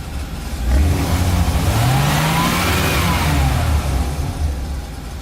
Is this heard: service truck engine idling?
yes